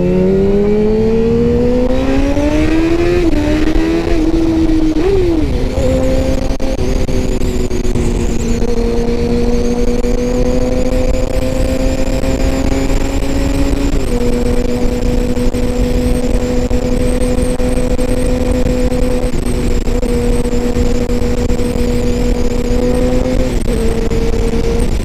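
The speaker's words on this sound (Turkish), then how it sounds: "Kendi motorumdan bu motora binince bayağı bir fark atıyor." A group of motorcycles rides together, engines droning loudly and close with rising and falling revs and gear shifts, a continuous layered roar with no talk.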